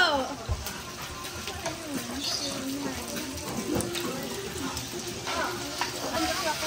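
Samgyupsal pork sizzles steadily on a grill, a constant close frying hiss running under scattered clinks and background chatter.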